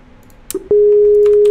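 Unanswered ringing tone of a phone call in a Minecraft tribal-war game, a short blip followed by a steady, loud sustained tone that runs on alone.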